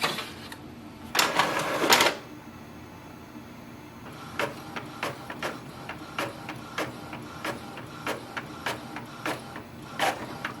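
An Epson WF2930 inkjet printer running a color copy: a loud burst of mechanical whirring early on, then a steady run of rhythmic clicks and carriage strokes repeating about every half second, with no talking.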